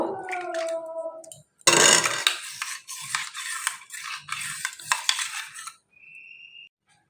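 Cocoa powder being stirred into a chocolate ice cream mixture with a spoon, giving repeated close scraping and clinking strokes against the bowl, with a short gap between bursts and no talk.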